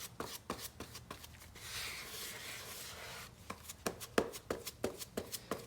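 Body filler being spread and mixed by hand on a Honda car body, with a run of soft scraping strokes and sharp taps that pause midway, then pick up again in quick repeated strokes close by.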